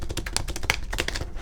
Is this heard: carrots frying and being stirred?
no